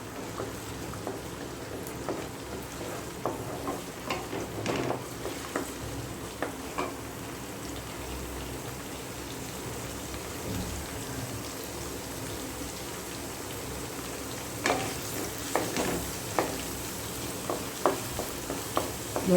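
Garlic, ginger and green chili sizzle and fry in a pan for fried rice, a steady close crackle with scattered spatters and occasional stirring scrapes throughout.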